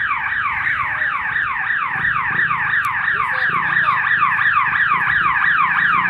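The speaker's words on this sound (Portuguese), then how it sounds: "Tem um alarme disparado aqui." A car alarm wails outdoors in a loud, continuous rising-and-falling siren sweep that repeats rapidly and steadily, with faint street background beneath.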